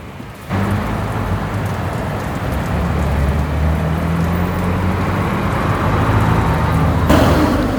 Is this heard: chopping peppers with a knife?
no